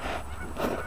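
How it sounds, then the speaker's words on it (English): Geese honk outdoors on a calm morning, a short burst of calls at moderate distance, rising briefly louder near the end over steady low background rumble. "Got some geese out there somewhere. Hear them, but I don't see them."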